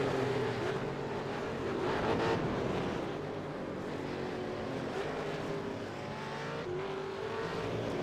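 V8 Supercar race car accelerating away from a splash-and-dash pit stop at Barber Motorsports Park in Alabama, a loud continuous engine roar that fades slightly as it pulls away amid track ambience.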